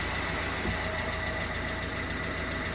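A Honda Civic engine idles with the clutch pressed in, heard from under the car as a steady, moderately loud mechanical hum with no talking.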